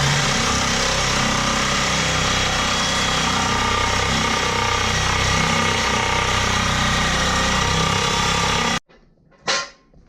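A blade saws through the exhaust pipe behind the tailpipe of a Toyota Tacoma with a 3.4 V6, a loud continuous grinding rasp lasting about nine seconds before cutting off abruptly, followed by a short faint voice.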